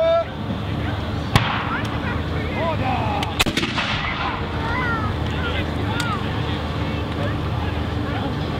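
A field gun fires at a British Army Zulu Wars display at Military Odyssey 2014, one heavy outdoor boom followed by a few sharper cracks, with wind noise and people talking through the scene.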